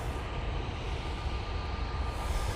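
An airplane departing at Manchester Airport, a steady broadband engine roar heard from a distance, continuous and fairly loud with no talk.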